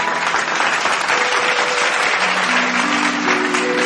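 A live stage audience claps steadily to welcome a singer at a music program. The dense, loud applause fills the whole stretch without pause, and a faint musical tone sounds beneath it.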